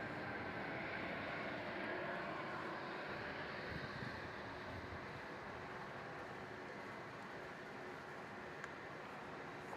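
A Qantas airliner bound for Hobart takes off from runway 27 at Melbourne Airport, a broad, steady engine roar heard from a distance that holds evenly throughout with no voices.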